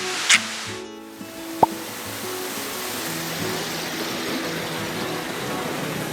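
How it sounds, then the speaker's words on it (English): Waterfalls in a Norwegian mountain valley along the Aursjøvegen gravel road produce a steady, enveloping rush of water. A sharp short click and a brief high hiss sit near the start of the constant roar. "another beautiful valley with just waterfalls everywhere, like the sound of water is just all around you"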